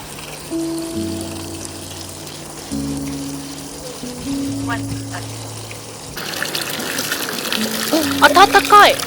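Hot spring river water in Beitou, Taipei, flows with a steady, broad rush, partly masked by voices talking and by steady tones in the background.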